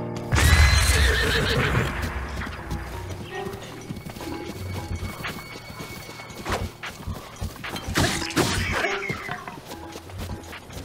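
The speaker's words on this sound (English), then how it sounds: "charge around your horses" Horses in a video game neigh loudly several times with shrill whinnies over clip-clopping hooves, clanking gear and a busy background din, lasting about eleven seconds.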